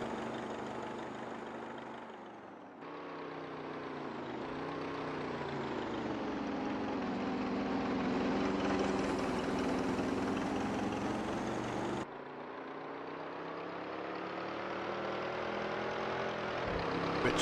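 A 1929 racing car engine at the Coppa Pietro Bordino road race drones steadily and loudly, rising and falling in pitch as it revs, with an abrupt break before the roar resumes.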